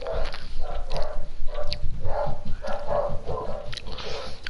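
An agitated dog barks over and over in quick, close bursts, with occasional whimpering yips between the barks.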